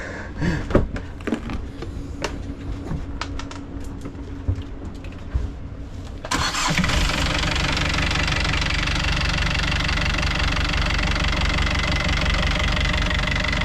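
A boat engine catches and starts up, then runs in a loud, steady, even drone after a stretch of quieter clicks and mechanical handling noises.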